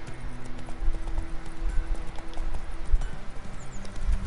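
A horse's hooves clip-clop in a quick, steady rhythm in the video game The Witcher 3, close and clear against a faint background of low game sound.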